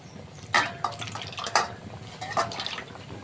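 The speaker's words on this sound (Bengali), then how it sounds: "আর এদিকে তোমার তরকারি ফুটে উঠেছে।" A pot of curry soured with raw tamarind boiling on the stove, sending up a few distinct wet bubbling pops and splutters over a low, steady simmer.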